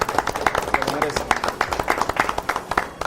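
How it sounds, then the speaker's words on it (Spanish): Brisk applause and clapping from a studio audience honoring a football coach, a steady patter of many hands at close range, with a voice talking over it. "Quiero que todos les brindemos un aplauso a este maestro del fútbol."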